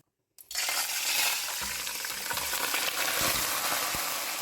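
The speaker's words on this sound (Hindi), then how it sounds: "अब इसी ऑयल में मैं डाल दूँगी चिकन" Chicken, one kilogram, dropped into hot oil left from frying onions erupts into a loud, steady sizzle after a brief silence, bubbling continuously with occasional soft clinks of a utensil.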